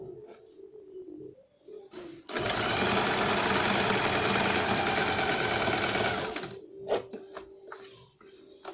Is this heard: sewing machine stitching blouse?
yes